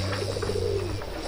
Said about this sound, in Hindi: कबूतर को भगाओ।